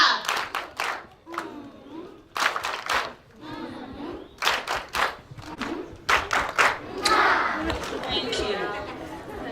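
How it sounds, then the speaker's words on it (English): A crowd at a children's day celebration performs a rhythmic group clap in short bursts of synchronized claps separated by chatter and speaking voices, with louder clapping toward the end. "Can we give ourselves the final love clap?"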